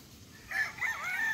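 A Boston Black gamefowl rooster crows once, a strained, wavering call rising over faint background noise and holding to the end.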